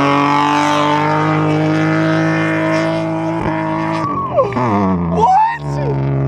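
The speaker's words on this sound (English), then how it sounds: "He just dropped the clutch. At like 4K, at least." A tuned Subaru of about 400 horsepower launching with the clutch dropped near 4,000 rpm, a loud sustained engine roar that bogs and shifts pitch, heard close with voices talking over it.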